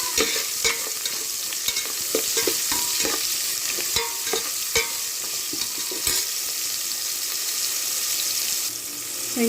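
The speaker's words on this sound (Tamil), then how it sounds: "வெங்காயம் நல்லா பொன்னிறமாக ஆகிற வரைக்கும் நல்லா வதக்கிக்கலாம்" Onions sautéing in hot oil for ghee rice, a dense continuous sizzle broken by repeated sharp scrapes and clinks of a spoon stirring the pan, loud and close, no talking.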